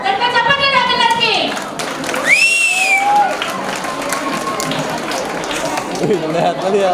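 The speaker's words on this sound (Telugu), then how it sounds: "let's చప్పట్లు కొట్టండి" An audience claps and cheers at a Telugu TV show as a winning number is announced, a loud, continuous crowd wash heard under speech and a voice.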